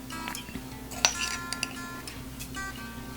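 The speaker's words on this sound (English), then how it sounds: "So we'll stir these ingredients together" A spoon stirs pickling brine ingredients for refrigerator pickled carrots, giving a few light clinks and taps against a container, one sharper clink standing out over a quiet hum.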